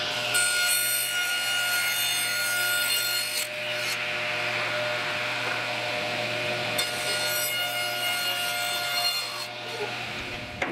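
A plastic dust collection hood for a Delta contractor table saw being trimmed to fit an opening, giving steady rasping, sawing strokes that run continuously at close range, with a brief change in texture partway through and no talk.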